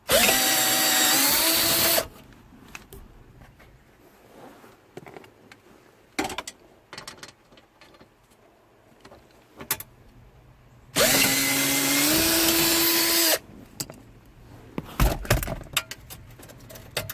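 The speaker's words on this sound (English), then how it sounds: "Way easier using a drill" Power drill removing a part on a Ford Ranger XLT Flare Side Step pickup: two loud, sustained whirring bursts with pitch shifts, close by, separated by clinks and handling noises.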